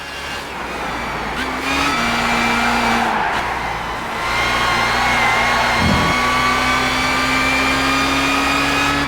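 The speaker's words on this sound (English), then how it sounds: "that was the sound of the straight cut gears that y'all heard when we were looking at the back." A race car with straight-cut gears in Gran Turismo 5, a loud steady engine drone under a high gear whine, with tones stepping up and down as gears shift, continuous and close.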